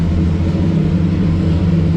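A 1966 Ford Mustang engine, just revived after 40 years with a newly wired choke, idles high in a steady, loud, even drone close by.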